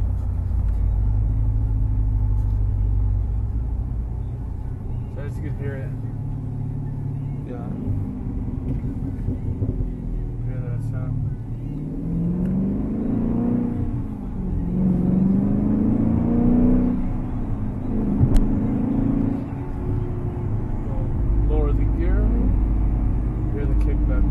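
A 2017 Dodge Challenger R/T Scat Pack cruises slowly through a corner, its engine a steady low rumble with a gentle rise in pitch, heard from inside the car.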